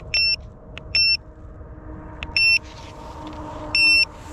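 Electronic bite alarms on feeder fishing gear give four short, loud, evenly spaced beeps, each a clear pitched tone, over a steady low rumble.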